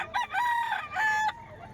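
A Spangle rooster crows once, loud and close, with a strained, wavering cock-a-doodle-doo that holds its high final note before cutting off.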